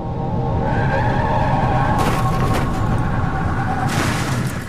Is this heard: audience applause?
no